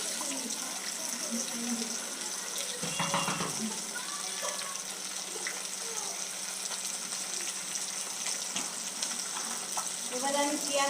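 Rohu fish pieces rubbed with salt and turmeric frying in a wok, a continuous soft sizzle with a brief louder burst and scattered clinks, no talking over it.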